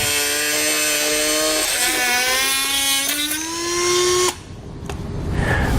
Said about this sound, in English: Now I'm going to use a Dremel tool to cut that area out.